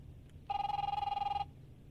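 A telephone rings once in The Wolf Among Us, a steady electronic warble lasting about a second over a low room hum, with no talking.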